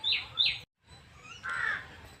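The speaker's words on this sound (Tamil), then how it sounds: "வாய்ஸ் ஓவர் கொடுக்கும்போது பறவை சத்தம்லாம் அதிகமாக கேட்குது" Birds calling outdoors in a garden, with crows cawing: two sharp bright calls close together, a brief silent gap, then a longer, softer call, fairly close with no talking.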